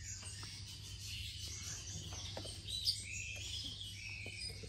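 A young long-tailed shrike, about seven to eight months old, gives scattered thin chirps and tweets at moderate distance over a steady low background hum.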